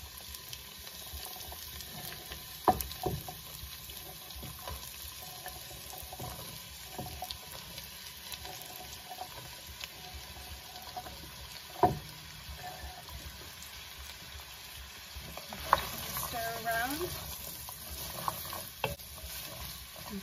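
Chopped carrots, onion and parsnip sizzle steadily in a pot for a carrot parsnip soup, a low continuous crackle broken by a few sharp clanks and stirring scrapes.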